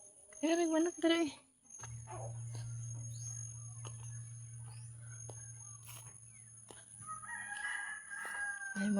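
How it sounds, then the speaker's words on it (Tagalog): A rooster crows in the distance while people talk nearby, with a low steady hum underneath and faint outdoor background. "Ayun, mga manok oh"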